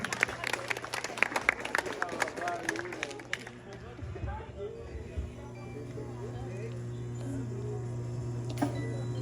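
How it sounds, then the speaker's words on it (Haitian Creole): Dense clapping from an audience at a birthday celebration for the first few seconds, then it fades into a low steady hum of room noise. "Sur vos applaudissements s'il vous plaît."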